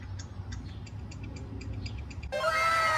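A cat meows over a steady ticking rhythm, then a louder, sudden sound takes over near the end, with no talk.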